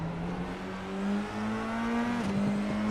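A Formula 4 race car engine at Spa drones steadily at high revs, the pitch easing and dipping briefly as the driver lifts off the throttle behind another car, loud and close.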